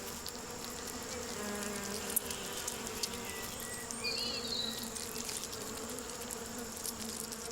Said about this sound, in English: the windfall fruit so favoured by bees